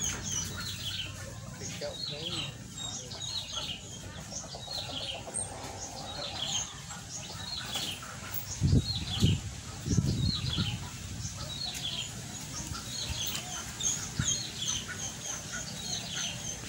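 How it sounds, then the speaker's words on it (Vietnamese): Chickens clucking amid ducks and Muscovy ducks kept by a household on the outskirts of Hanoi, a dense chorus of repeated calls throughout, with a louder burst of low squawks and flapping near the middle and some voices in the background. "Trữ vịt với lại ngan với lại gà để chống dịch."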